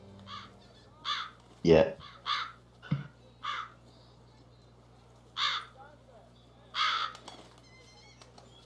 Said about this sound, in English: Oh shit, yeah, all the crows on the roof.